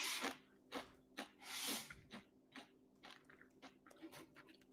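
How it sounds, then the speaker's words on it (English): Crunchy bites and chewing on Pringles potato chips come in a steady series of close, quiet crunches, with no talk over them. "I hope you can't hear me munching on my Pringles."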